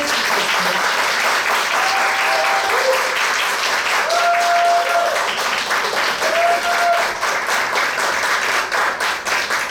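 A church congregation at a Thursday worship service applauds to welcome a speaker, loud dense clapping that holds steady throughout, with faint voices and brief tones beneath.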